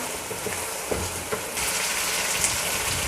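Beef liver frying in oil with black pepper, a steady soft sizzle with occasional stirring clicks, growing a little louder midway.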